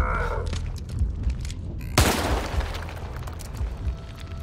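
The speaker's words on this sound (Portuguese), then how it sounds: "Eu não queria ter dado um tiro na cara de pistola, mano." Pistol gunshot in The Evil Within 2 survival-horror game: a single sharp, loud blast two seconds in that decays into a noisy tail, with muffled game ambience and brief thumps before it.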